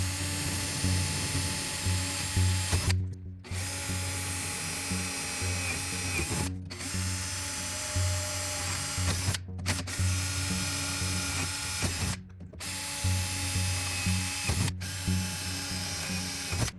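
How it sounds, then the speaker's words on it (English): Power drill match drilling holes through the aluminum tailcone tube of a RANS S-21 aircraft kit: a continuous high whine, close and steady, broken by five brief pauses between holes. "I'm ready to go ahead and match drill this one."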